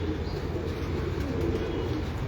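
Rampuri flying pigeons kept by a Karachi fancier cooing softly and continuously, a low murmuring coo over steady background noise with no talk.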